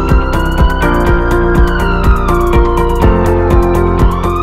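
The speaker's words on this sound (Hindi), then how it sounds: "24 घंटे एम्बुलेंस सुविधा उपलब्ध।" A loud ambulance siren wails continuously and close by, its pitch sweeping up and down in a repeating cycle, with no talking heard.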